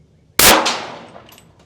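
One loud .380 pistol shot hits the metal panel of a prison door, a sharp close bang with a metallic clang that rings and fades over about a second, followed by faint small clinks.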